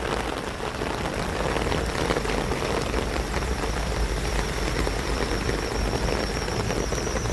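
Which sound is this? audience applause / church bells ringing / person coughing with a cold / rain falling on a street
rain falling on a street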